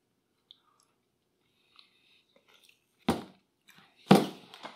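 After a few faint clicks, two distinct crunchy bites or chews of a frozen Blue Bunny Twist candy bar with caramel ribbons land close up, each followed by a brief wet, squishy tail.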